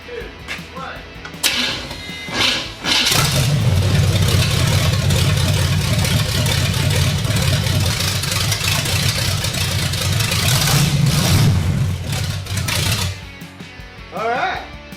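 A rebuilt car engine fitted with a new camshaft cranks, fires up and settles into a loud, steady, rough idle lasting about ten seconds before cutting off, with people talking nearby.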